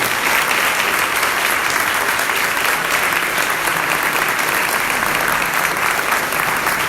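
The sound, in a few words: congregation applause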